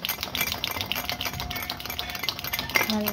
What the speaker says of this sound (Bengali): এবার 5 মিনিট ধরে আমি এটা বিট করব।